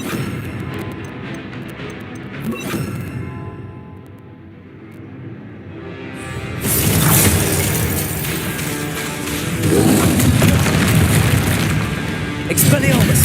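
A Glacius ice spell is cast in the Hogwarts Legacy video game, with loud booming spell blasts and bursts rising in two heavy surges amid other combat effects, and voices shouting over the action.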